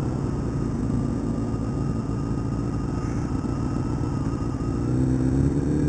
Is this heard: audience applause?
no